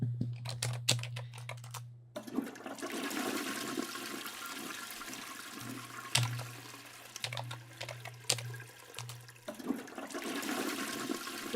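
A toilet flushing, with a rushing swirl of water that rises and drains away. It is fairly quiet and heard alone, with a few soft clicks and taps over it.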